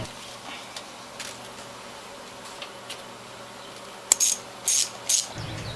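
On a 1996–2004 V8 Mustang, a ratchet tightens the intake around the mass airflow sensor. After a quiet stretch, three short bursts of rapid close-up clicking come near the end.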